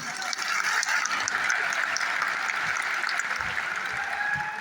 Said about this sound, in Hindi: और एक बार ताली अपने लिए बजा लीजिए।